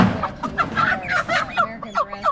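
Several hens and chickens cluck and murmur close by in a backyard coop setting, a steady overlapping chatter of short clucks with rising and falling calls.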